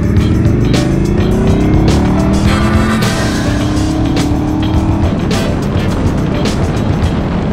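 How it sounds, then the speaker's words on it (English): A custom Indian Scout Bobber motorcycle on a Dynojet remote tune ride accelerates hard through the power band to highway speed. The engine is loud and continuous, with its pitch climbing and then dropping at shifts between gears, over steady wind and road roar. "I did about a 3 minute ride, maybe 4 minute ride, accelerated up through the power band, got it up to about 75, 80 miles an hour"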